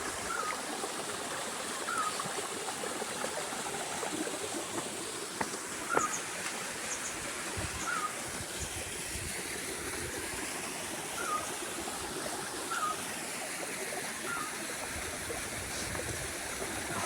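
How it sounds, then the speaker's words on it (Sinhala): Cold mountain stream water rushing downhill in the highlands near Belihuloya, a steady close wash of flowing water with faint bird calls repeating over it. "නැග්ගක් වලින් ඉඳන් එන්නේ වතුර පාර පල්ලෙහාට"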